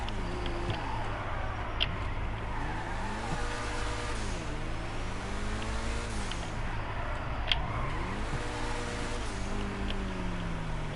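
A car drives and revs in the GTA video game, its engine note rising and falling in repeated sweeps as it accelerates and eases off, steady and moderately loud with no talking.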